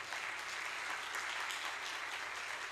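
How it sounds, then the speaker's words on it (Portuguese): Church congregation applauding during a communion service, a faint but steady spread of clapping from a distant crowd. "Quem concorda com isso, dê um aplauso ao Senhor."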